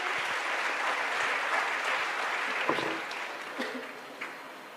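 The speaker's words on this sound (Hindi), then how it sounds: "एक बार जोरदार तालियों से स्वागत करेंगे।" Enthusiastic applause from an audience welcoming a guest at a Sanatan gathering, dense steady clapping that gradually thins out toward the end.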